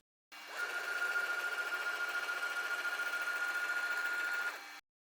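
A CNC machine traversing over the centre of a wooden workpiece gives a steady, even motor whine with a constant tone, running alone for about four and a half seconds before cutting off.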